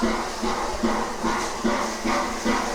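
A steam locomotive sitting on light steam gives off a steady hiss with a soft, regular pulsing beat at a railway station.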